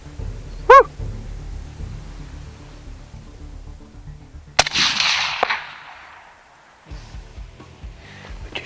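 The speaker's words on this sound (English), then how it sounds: "So I'm shooting a suppressed rifle." A suppressed rifle fires one sharp, loud crack out on the South Dakota prairie during a coyote hunt, followed by a second of hissing decay. Fainter rustling comes before and after the shot.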